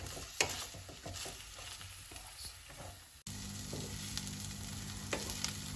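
Onion sautéing in a pan for sev bhaji hisses steadily up close, with light stirring taps; the sizzle turns suddenly louder and denser about halfway through.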